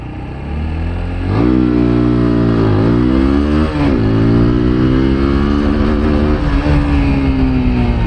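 A TVS Apache 160 4V motorcycle engine revs up repeatedly and holds near its 9000 rpm limiter, loud and close, with the pitch rising, bouncing and sustaining.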